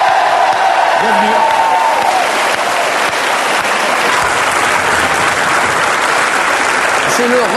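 A studio audience at a 2007 French television show applauds loudly and continuously for Jean-Michel Jarre, with dense clapping and a few cheers filling the room from start to finish.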